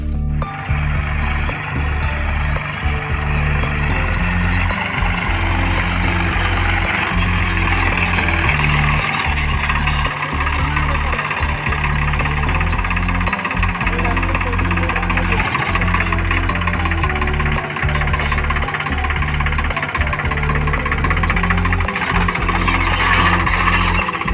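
A farm tractor engine idles nearby in an orchard setting, a loud steady low rumble with rhythmic knocking pulses continuing throughout without pause.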